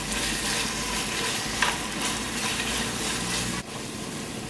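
Ginger garlic paste and tomato puree sauté in a pan with a steady, close sizzle and a brief stir partway through.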